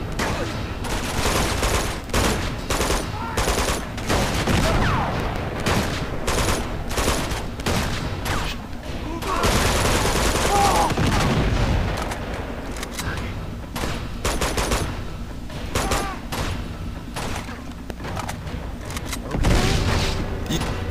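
Dense gunfire and a booming grenade blast in Uncharted 2, with rapid bursts of automatic shots crackling nearly nonstop, a heavier roar in the middle, and a loud burst near the end.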